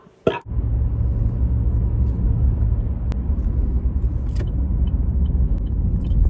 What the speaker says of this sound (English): This traffic is stupid.